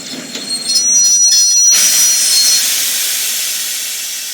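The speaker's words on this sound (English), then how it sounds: "After 3 days, the train stops." A train brakes to a halt with a loud, sustained metallic squeal that fades slowly as it comes to rest.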